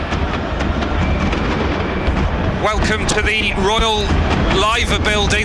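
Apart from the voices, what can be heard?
fireworks going off during Liverpool FC victory parade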